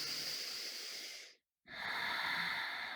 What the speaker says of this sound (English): Exhale completely. Breathe in, breathe out.